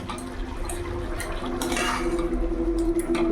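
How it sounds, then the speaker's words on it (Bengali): Fried eggs go into a pot of simmering potato and pointed gourd curry, with clinks of a utensil against the pot and soft stirring and bubbling, close and fairly loud. "এবার ভেজে রাখা ডিমগুলো দিয়ে দেবো।"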